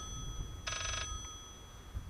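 A telephone rings inside the horror video game Layers of Fear: a single short, bright trilling ring burst sounds clearly over a quiet, low ambient hum.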